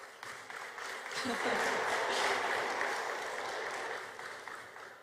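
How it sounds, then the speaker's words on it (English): A conference crowd applauds steadily, the clapping swelling to a dense peak midway and easing off slightly toward the end, with a few voices mixed in. "A big round of applause, please."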